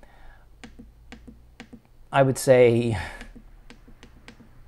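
Keys on an HP 12C Platinum financial calculator click in a steady, evenly spaced series of sharp, close taps, briefly interrupted by someone speaking.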